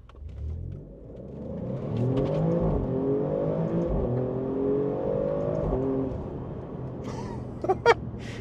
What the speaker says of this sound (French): On va se faire un départ arrêté.